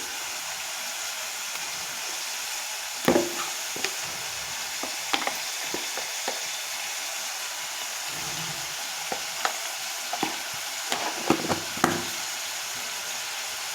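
Ginger garlic paste frying with softened onions in a pan, a steady hissing sizzle broken by scattered clicks and scrapes of stirring, close and continuous with no talk.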